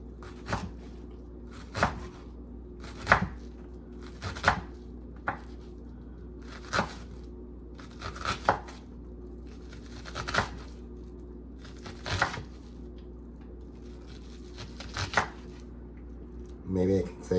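A kitchen knife finely chops a big onion on a cutting board for shrimp ceviche, making sharp, separate thuds that come every second or so, close and crisp, with quiet pauses between.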